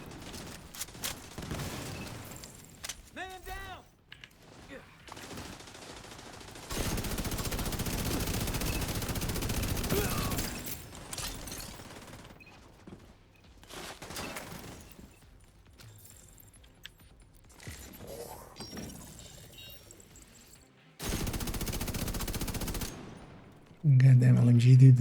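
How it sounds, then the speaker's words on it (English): Light machine gun fire in a video game, loud bursts of automatic shots coming in long sustained stretches with quieter gaps of game ambience between them. "Goddamn LMG dude in the back."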